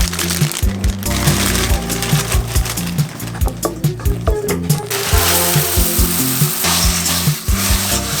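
Butter and miso sizzle loudly in a pan, a dense close hiss broken by a rapid run of scraping, knocking stirring strokes, with no speech.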